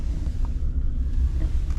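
Cold, windy weather at 8 degrees, with a steady low rumble of gusts buffeting the microphone close up throughout, no voices.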